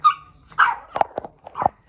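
A pet dog barks and whimpers close by in the morning, with a few sharp yips and short barks in quick, uneven succession.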